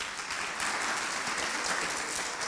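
Audience applause after a talk at a tech conference, a steady wash of many hands clapping together, moderately distant and even throughout the short stretch.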